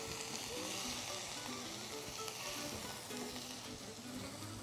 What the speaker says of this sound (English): And you can listen to that amazing, satisfying sizzle.